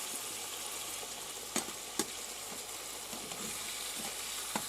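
Pieces of river pike sizzle steadily in a frying pan, a soft continuous crackle broken by a few sharp pops and taps as the pieces are turned, with no one talking.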